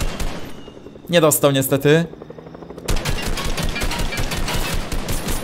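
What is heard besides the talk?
gunfire in video game Fortnite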